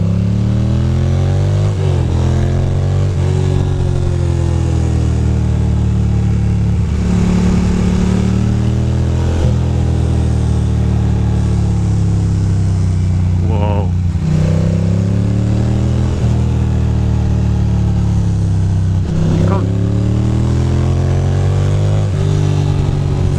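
A motorcycle rides the winding park roads north of New York City. The engine drones close and steady throughout, rising and falling in pitch as the rider shifts gears and rolls on and off the throttle through the curves, with no talk.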